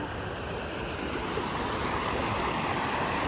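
River water rushing steadily over shallow rocks in the Tibagi River, Brazil, a continuous broadband wash with no pauses, close and fairly loud, heard alone without talk.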